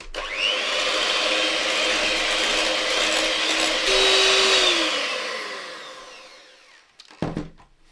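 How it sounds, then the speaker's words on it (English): Batter for magdalenas, made with olive oil and milk, gets a steady whisking, likely with an electric mixer: a continuous whirring drone that holds for several seconds, then fades out. A short clatter follows near the end. "And into that, I'm going to add my olive oil and my milk. And we're going to give that another whisk."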